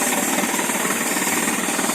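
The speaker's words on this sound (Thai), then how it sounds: "อันนี้เราเจาะแบบใช้ลมนะครับ ใช้แอร์ใช้ลมเป่า" An air-powered drilling rig bores a water well in Yasothon, a loud, close, continuous pounding rattle with a strong rush of blowing air and no talk.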